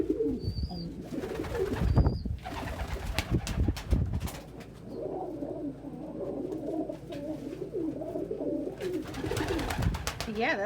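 Pet pigeons or doves give repeated soft, rolling coos at close range, joined by a few chirps, while people talk over and between them.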